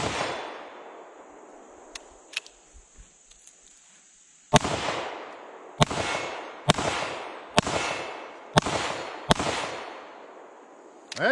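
A Keltec PR57 pistol fires during break-in, with a few faint early pops followed by six loud, sharp shots spaced about a second apart, each leaving a short ringing echo outdoors.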